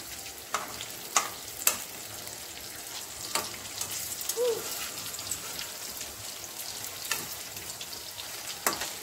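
Chicken majestic frying in hot oil over a medium flame, a continuous soft sizzle with scattered sharp pops and crackles spaced every second or so, close up and without talk.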